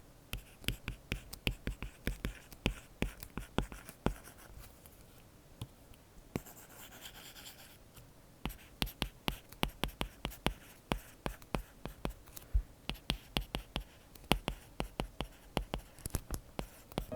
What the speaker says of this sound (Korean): 얘는 ESR 필름인데 필기 소리 같이 비교해보세요